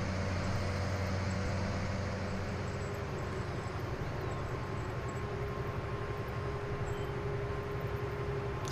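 Case IH CVX tractor engine in Farming Simulator 19, a steady continuous drone with a low engine hum running unchanged throughout, no air brake hiss and no voices.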